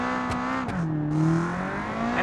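An 800-plus horsepower supercar engine in the game Automation revs hard with shifting pitch, with a couple of sharp backfire pops early on and a steady loud roar, with no talking.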